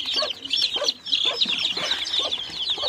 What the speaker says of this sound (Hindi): प्यारा सा एक वाइट कलर का चूजा मैं नीचे छोड़ रहा हूँ